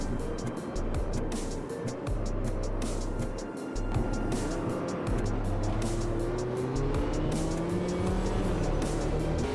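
Mini race cars lapping Monaco in the Automobilista 2 racing game, engines buzzing and revving up and down through the gears with tire squeal as several cars pass, loud and continuous, with no talk.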